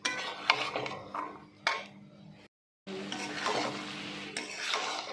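Cooked chicken, peas and capsicum being stirred together in a pan with a spoon, giving scraping and clinking strokes against the metal, a short silent gap, then more steady stirring with a faint sizzle.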